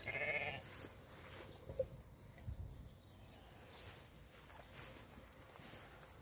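Sheep in a flock of around 350 pregnant ewes bleat at a farm sale, with one clear call near the start and quieter bleats scattered through steady outdoor background noise.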